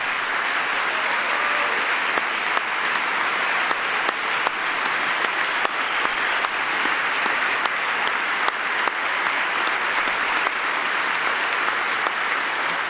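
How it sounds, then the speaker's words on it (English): A large audience keeps up sustained applause for a Donald Trump speech, a thick, even roar of clapping hands that stays loud and unbroken from start to finish. "Stop clapping for yourself, Donald."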